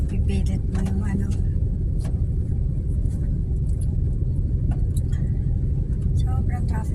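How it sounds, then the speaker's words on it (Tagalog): Heavy, bumper-to-bumper road traffic of buses, cars and motorbikes squeezing close together, a steady loud low rumble of engines with occasional higher horn-like tones and passing noises, and a voice speaking over it. "Sobrang traffic talaga."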